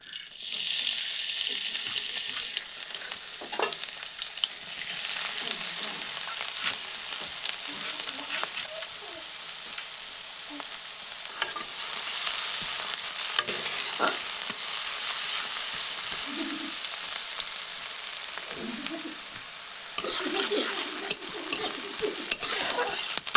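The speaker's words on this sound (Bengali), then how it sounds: "কড়াইয়ে তেল গরম হয়ে গেছে, এবার প্রথমে পেঁয়াজ কুচি দিয়ে দিচ্ছি।" Hot oil sizzles and crackles steadily up close as chopped onion fries in a pan, with occasional stirring scrapes.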